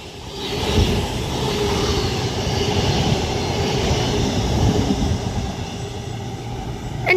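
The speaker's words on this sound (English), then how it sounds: "this Avanti West Coast 807 is forming the 1414 Avanti West Coast service to London Euston from Liverpool Lime Street" Avanti West Coast Class 807 passenger train passing at Acton Bridge on the West Coast Main Line, a broad rumbling roar that builds and holds steady, heard fairly close.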